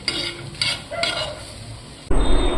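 Dried red chillies roast in a pan, stirred with scraping spoon strokes and a soft crackle, then a louder burst of sizzling near the end.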